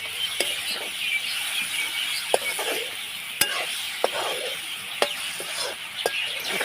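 Slit fish sizzles in a hot pan while a utensil scrapes and clinks against it every second or so in an uneven rhythm.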